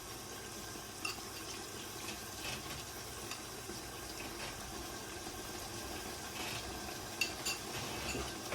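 Chilli powder being stirred into masala for a 2 kg mutton biryani, a steady close scraping and stirring with a faint sizzle and watery churn underneath, continuous with a few small knocks, no talking.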